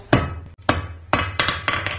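Hand-forging a ball-end coat and hat hook: the round face of a hammer strikes metal on an anvil to draw it out, giving sharp, ringing blows in an uneven rhythm, close and loud.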